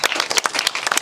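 A church congregation breaks into applause after a baptism, a brief burst of many hands clapping in a quick, uneven patter, fairly close and lively.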